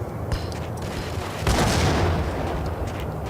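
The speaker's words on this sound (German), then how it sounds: "Ja, Granaten." Grenade blasts and gunfire in the Max Payne video game, a dense, loud burst of explosive booms and shots that swells at the midpoint and rumbles on under continuous battle noise.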